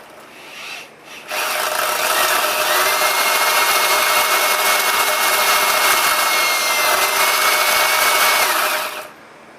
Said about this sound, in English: I think that gearbox turned good and freely